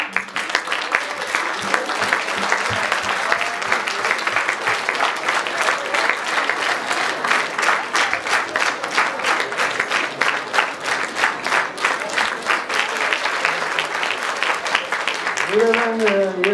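An audience at a Mother Language Day event claps steadily and densely all the way through, sustained and fairly close, with a voice briefly heard near the end.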